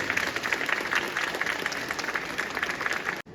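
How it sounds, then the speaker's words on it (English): Applause for young children performing at a school Teachers' Day celebration, a steady wash of many hands clapping together for about three seconds before it cuts off abruptly. "Another very huge round of applause for them."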